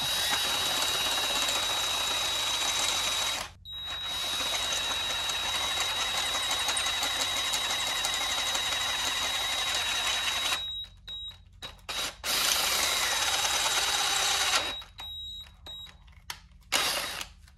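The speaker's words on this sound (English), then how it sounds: "luckily it's aluminum, so it's pretty easy to drill through" A power drill bores through aluminum during a race car engine swap, a loud whining, buzzing grind with a steady tone that runs continuously for several seconds, then stops and restarts in short stuttering bursts near the end.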